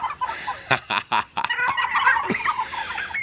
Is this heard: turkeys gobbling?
yes